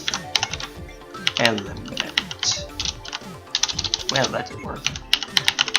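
Computer keyboard keys clatter in quick irregular bursts while someone writes basic XHTML code, close and clear, with someone talking over the typing.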